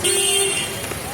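Busy Mumbai street traffic near Mahalaxmi, with a car horn tooting loudly up close over the rumble of passing vehicles, cut short after about a second.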